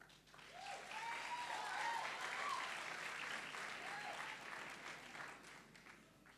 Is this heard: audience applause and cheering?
yes